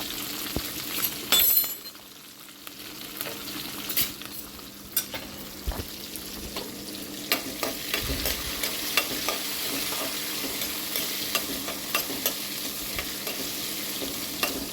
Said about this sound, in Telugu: పల్లీలు మంచిగా ఫ్రై అయినాయి. ఈరోజు అయితే క్యారెట్ లేదు. పచ్చిమిర్చి, ఉల్లిగడ్డ, కొత్తిమీర, కరివేపాకు ఇవి వేసేస్తున్నా.